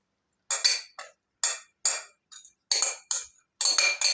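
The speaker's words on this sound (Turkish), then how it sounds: "Şimdi servis tabağıma alıyorum." Cabbage and beet salad being spooned onto a serving plate, heard as a series of close, bright clinks of utensil against dish in irregular bursts, with silence between them.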